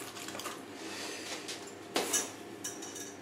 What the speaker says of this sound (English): I will grab some small pumice again, just with my smaller scoop